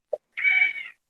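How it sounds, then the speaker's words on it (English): A single house cat gives one clear, close meow lasting about half a second, just after a brief soft tap, in otherwise quiet surroundings. "That's a cat."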